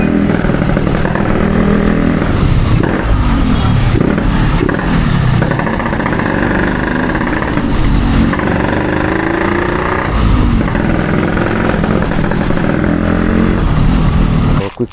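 A Yamaha RXZ 5-speed motorcycle with a quick throttle and upgraded engine revs hard and loud up close, its engine note rising and falling continuously throughout.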